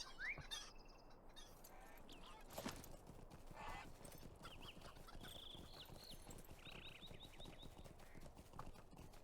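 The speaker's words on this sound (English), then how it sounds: "let's get on our horse" Faint horse hooves clip-clop in a steady rhythm in the video game Lord of the Rings Online, under chirping birds and soft ambient background, with an occasional brief horse snort.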